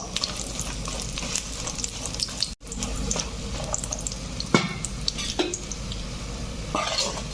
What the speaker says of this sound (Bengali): বড়িগুলো একটু ভেজে নেব